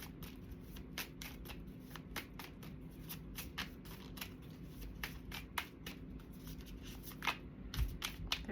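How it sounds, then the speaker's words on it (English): Tarot cards being shuffled quickly by hand, a soft rapid riffle of papery flicks and snaps repeating in bursts, close but quiet, with no talking. "I've been shuffling really fast"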